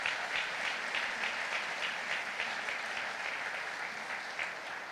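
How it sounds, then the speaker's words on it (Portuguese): Continuous, even applause from a large audience at a state church convention session, a dense wash of clapping holding steady for several seconds with no speech over it. "Vamos aplaudir ao Senhor."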